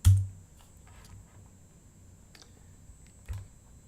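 A value keyed in on a computer keyboard during 3D animation software work: a few soft, sparse key clicks, quiet and close, one sharper tap at the start and another near the end, with no talking.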